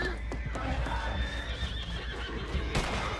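A horse whinnies in a bounty-hunting video game, a loud neigh over a busy background of clip-clopping hooves and game noise.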